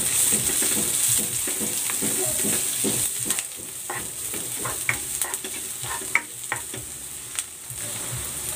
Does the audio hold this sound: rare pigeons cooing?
no